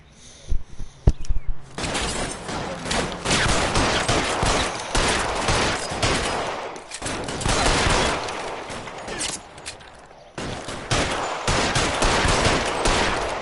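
Gunfire in L.A. Noire, with a few sharp shots at the start followed by long stretches of dense, rapid shooting and sustained bursts, loud and close, broken by brief pauses.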